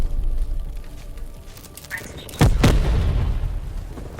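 An artillery strike lands in the Black Ops Cold War shooter as a sharp double boom, loud and close, over steady battle ambience and game radio chatter.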